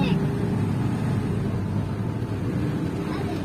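A motor tricycle labors through flood water in Malolos, Bulacan, giving a continuous, loud, close rumbling engine drone with a watery wash that holds steady throughout.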